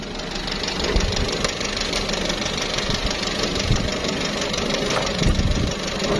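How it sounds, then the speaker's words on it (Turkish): A Toyota Corolla engine idles at an outdoor car market, giving off a steady, close rumble with light ticking and knocking running under it, and no one speaks over it. "Hazır motor çalışırken kardeşim."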